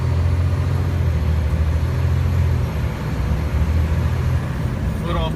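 A truck's engine brake, set on low, drones heavily and deeply as the Davis AutoSports sport chassis slows down. The sound is a constant loud rumble heard from inside the cab.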